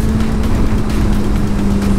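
A Suzuki GSX-R 1000 litre-class sport motorcycle drones steadily and loudly up close, its engine note holding constant with faint crackling pops scattered through the exhaust.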